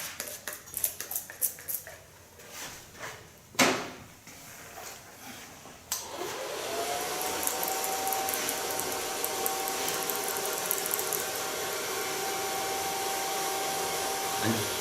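A handheld hair dryer blows during a short pixie-cut styling, starting abruptly after a few seconds of clatter and running steadily and loudly to the end with a thin whine on top.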